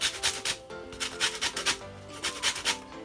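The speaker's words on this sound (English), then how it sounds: "So I'm just gonna grate some lemon zest in it." Lemon zest is grated for a carrot cake, with quick rhythmic rasping strokes, about a dozen short scrapes close up and fairly loud.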